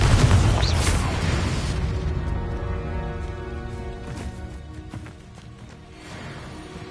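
Confringo explosive spell in Hogwarts Legacy, a loud booming blast that opens the moment and then rolls off into a long fading rumble with a lingering tonal ring.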